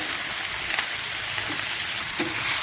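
Okra sautés with onion, tomato and garlic in a pan, producing a loud, even, continuous sizzle with faint stirring scrapes and no talking.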